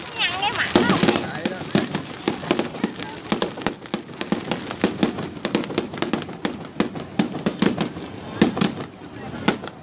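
Fireworks and firecrackers set off nearby, a dense, continuous barrage of sharp cracks and pops under excited talk from onlookers.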